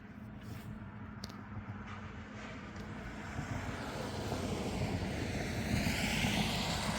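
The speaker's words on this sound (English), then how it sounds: "I hear a car coming down the highway." A car approaches along a wet, salted highway near a quiet town in the morning, tires hissing and splashing on the asphalt as the rumble builds from distant to closer.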